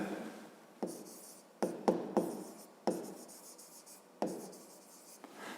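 Pen writing in a notebook during a fifth-grade math exercise, with short scratchy strokes in irregular bursts, quiet and close, no talking.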